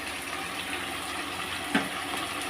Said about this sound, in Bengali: দেখো গরম জল দিয়ে দিচ্ছি, যেহেতু ঝোল হবে।